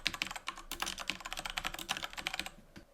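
Rapid typing on a computer keyboard while entering a security group description for an AWS Linux EC2 instance: a steady run of close, crisp key clicks with brief pauses and no speech.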